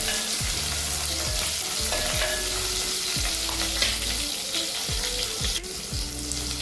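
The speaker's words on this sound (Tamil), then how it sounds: "வெங்காயம் நல்லா வதங்கணும்" Small onions, about 100 grams, sizzle steadily in a pan for a Tamil sambar rice dish, with a continuous frying hiss broken by regular scraping strokes of a stirring spoon.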